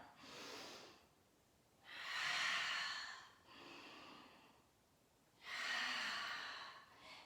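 Slow, audible breaths during a yoga flow, with long airy exhales alternating with softer inhales in an even rhythm, close and clear with no talking.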